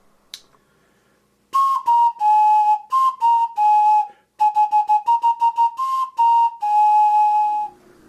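A homemade three-note wooden whistle blown in a run of short and sustained toots, its pitch stepping between notes, loud and close with brief gaps between blasts.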